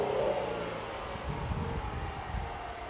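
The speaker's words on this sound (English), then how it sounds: "I'm getting mainly the induction noise of the Range Rover supercharger" Supercharged V6 in a 2014 Range Rover Sport heard from the cabin, a muffled engine and induction whir building and holding under acceleration, moderately quiet and steady.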